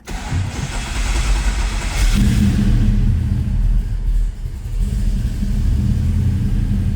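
A 1968 Dodge Charger restomod's engine cranks briefly and fires up, settling into a loud, steady low rumbling idle with a slight dip midway, heard close with no talking.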